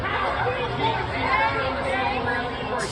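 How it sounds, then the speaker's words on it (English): A large crowd gathered at a rally chatters in a dense, steady babble of many voices, with no single speaker standing out. "That is a big crowd."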